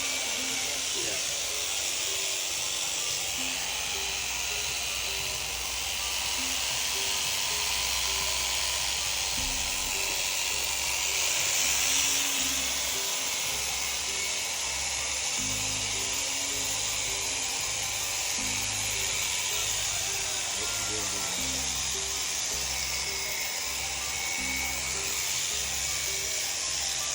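Electric clippers shearing a sheep: a steady, close buzzing drone runs continuously throughout, with low background rumble and indistinct voices.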